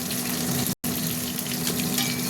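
Pieces of rohu fish sizzle steadily in hot oil in a home kitchen pan, a continuous close frying hiss with no voices over it.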